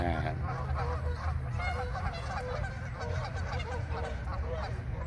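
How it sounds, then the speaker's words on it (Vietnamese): Wild ducks at a lake in Mile Square Park, California, call with repeated nasal honks, a busy, continuous chorus at moderate distance over a steady outdoor hum. "Các bạn nghe cái tiếng của mấy con vịt trời không?"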